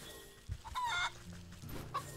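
Chickens cluck on a farm in the video game Wytchwood, giving a few short, soft game-audio clucks over a quiet background.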